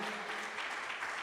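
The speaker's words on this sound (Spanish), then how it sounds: "le damos un fuerte aplauso al Señor" Church congregation applauding during a service, a faint, steady wash of clapping with no voices over it.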